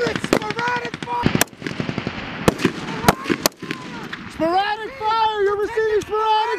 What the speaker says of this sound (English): All units, sporadic fire!